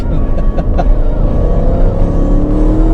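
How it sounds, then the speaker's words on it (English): A 2017 Porsche Panamera Turbo accelerating hard, heard from inside the cabin, its engine and exhaust a steady, loud, low rumble that climbs slightly in pitch as it pulls, with no talk over it. "The exhaust note sounds pretty sweet."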